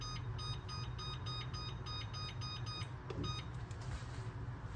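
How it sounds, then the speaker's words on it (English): A kitchen oven timer beeps while a lobster tail bakes, sounding as quick, evenly spaced electronic beeps in bursts, fairly faint over a steady low room hum. "Timer."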